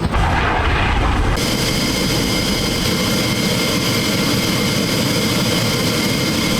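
An F-16 fighter jet's engine roars inside a flight simulator game, a loud, dense, unbroken rush that thickens sharply after the first second and holds steady throughout.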